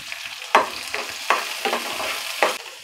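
Onions, green chilies and ginger pieces frying in hot oil, a soft sizzle broken by several sharp stirring scrapes spaced about a second apart, close and clear with no talk.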